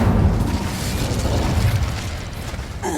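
Incendio fire spell blasts in the Hogwarts Legacy video game during combat with goblins, loud bursting booms and crackling pops in quick succession over roughly three seconds.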